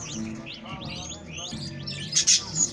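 Young budgerigar chicks in a nest give a dense run of thin, rapid chirps and cheeps, close and fairly soft. Near the end a few sharper, louder peeps stand out, with no talking.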